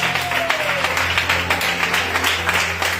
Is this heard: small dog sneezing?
no